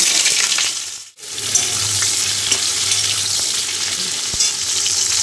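Steamed eggs frying in hot oil for an egg curry with cauliflower give off a loud, continuous crackling sizzle that dips briefly once, then hisses on steadily with small pops and stirring sounds.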